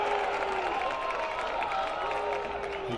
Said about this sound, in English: cheering sections going to probably react with every pitch at this juncture.